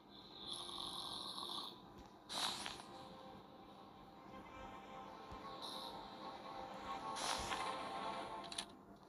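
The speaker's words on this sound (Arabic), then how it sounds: "لا يا جماعه كده، ده نايم، حد نايم فوق بيشخر. سامعين؟ بيشخر وربنا." Loud, rhythmic snoring from a sleeping character upstairs in the Granny horror video game, with repeated drawn-out breaths rising and falling across the clip over a low game-ambience background.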